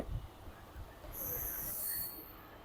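A Kolkata circular rail train pulls out of a station, its wheels giving a high, sustained squeal against the rails over a low rolling rumble, steady and moderately close.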